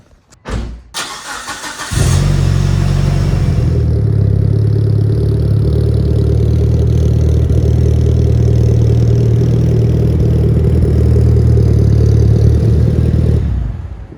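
A Mitsubishi Evo engine cranks and catches near the two-second mark, then settles into a loud, steady idle with a deep rumble that holds close and continuous until it cuts off just before the end.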